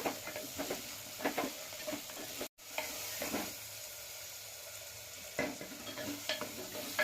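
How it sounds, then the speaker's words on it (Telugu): Sliced onion, green chillies and two dried chillies sizzle and crackle in hot oil for a fish curry, with a spoon stirring in scraping bursts, one brief dropout midway and no talk. "నూనె కాగాక సన్నగా తరిగి పెట్టుకున్న ఉల్లిపాయ ముక్కల్ని పచ్చిమిర్చి ముక్కల్ని అలాగే రెండు ఎండుమిర్చిని యాడ్ చేసుకున్నాను"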